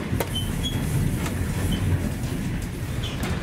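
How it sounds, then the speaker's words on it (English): The Overland passenger train from Melbourne to Adelaide runs at top speed on the rails, a steady loud rumble inside the carriage with light rhythmic clicks over the track joints. "From now on, the train for most of the time runs at its top speed, 115 kilometers per hour"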